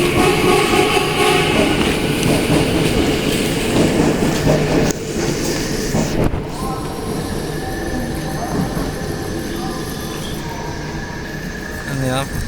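The Soekarno-Hatta airport rail link train runs with a loud interior rumble and rolling wheel noise, plus tonal hums and squeals, continuing steadily throughout with a slight drop in level midway.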